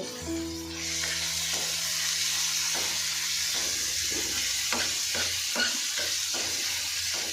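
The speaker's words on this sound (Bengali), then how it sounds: "ওকে, লাল করে ভাজতে হবে।" Onions frying in a pan until reddish, a continuous sizzle with repeated scraping and knocking of a stirring utensil against the pan, close and steady.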